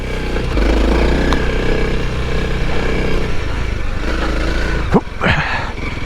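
A Honda CRF300L motorcycle riding off-road, its engine droning loud and steady close by, then dipping briefly before a short rev and clatter near the end.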